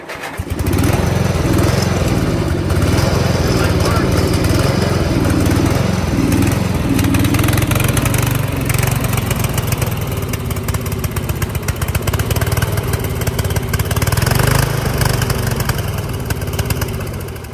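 The engine of an Ariens YT12 riding mower runs loud and close, a continuous chugging drone that holds steady at idle for the whole stretch. No one speaks over it.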